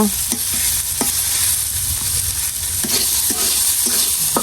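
Food sizzles loudly in a pan with a constant hiss, broken by several sharp scrapes and taps of a spoon stirring against the metal.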